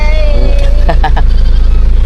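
Goats with fringe-like bangs bleat in a short wavering call, then a few louder overlapping cries nearby, over a constant low engine-like hum with voices in the background.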